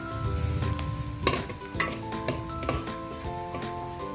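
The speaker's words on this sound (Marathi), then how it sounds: "तर याच्यातच आपण थोडंसं गरम तेल त्याच्यात घालतोय म्हणजे ते कुसकुशीत होते" Hot oil hits a spiced flour mix of red chili, coriander-cumin powder and turmeric for Surti undhiyo muthiya, giving a close, crackling sizzle along with clinks of a spoon and utensils.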